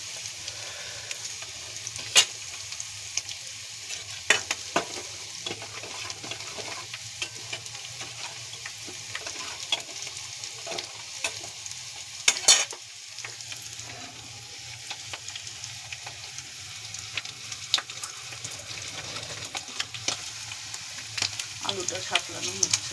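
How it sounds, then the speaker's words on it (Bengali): Potatoes sautéing in a pan in a home kitchen, a faint, continuous frying hiss with scattered light clicks and taps of utensils, steady across the whole stretch. "আলুটা সাতলানো হচ্ছে।"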